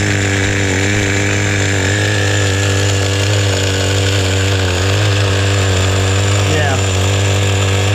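A small HPI Nitro Rush stadium truck with an old, low-compression 15-size nitro engine runs steadily and loudly close by, a continuous high buzzing drone, while a person speaks briefly over it.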